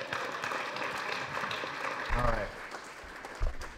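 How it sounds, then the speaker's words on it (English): An audience at a convention plenary claps, a broad wash of applause heard under a speaker's voice, with a few louder low thumps near the middle and end. "Can I have a round of applause for that"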